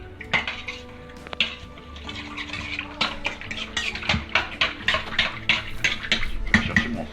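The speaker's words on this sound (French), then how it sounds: "Donc on fouette juste pour s'assurer que la levure va être bien dissoute." A whisk clinks rhythmically against a bowl while yeast and liquid are mixed for pizza dough, steady quick metallic taps speeding up toward the end, close and clear with no talk.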